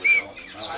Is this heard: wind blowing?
no